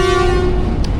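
Train whistle sounding at station departure on the 13 UP Awam Express in Pakistan, a loud sustained tonal blast that holds steady through the moment and cuts off near the end.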